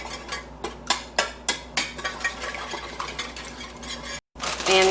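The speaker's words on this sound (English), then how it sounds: "Going to stir this up." A spoon stirs a brown sugar and cinnamon mixture in a bowl, a rhythmic run of clinking scrapes that quickens and fades, then a brief pause and a rustle at the end.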